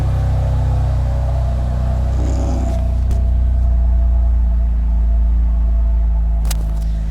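A 2017 BMW M3's six-cylinder engine idles loudly and steadily nearby in a showroom, a deep continuous rumble with a few faint clicks and knocks.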